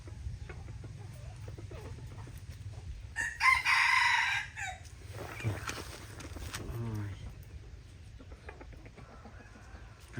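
An F1 hybrid junglefowl rooster, a cross with wild junglefowl, crows once loudly and close by against a low, steady outdoor background hum, followed by fainter clucking sounds.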